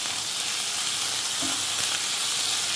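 Tomato and onion frying in a pan, a steady close sizzle that stays even throughout with a brief soft stir partway.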